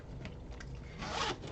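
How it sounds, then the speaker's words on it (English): A big zipper on a sewn fabric bag being pulled, a short, close rasping zip that grows louder toward the end. "They're such big zippers, I swear."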